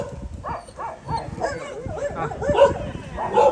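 A pet dog barking at several street dogs, a run of repeated yipping barks and whimpers at a moderate distance, mixed with faint voices and outdoor background noise.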